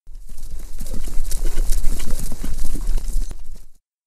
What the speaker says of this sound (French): s'effaça pour laisser passer en trombe, l'un à droite, l'autre à gauche, Athelstan et Front de Bœuf, qui ne purent arrêter à temps leurs chevaux.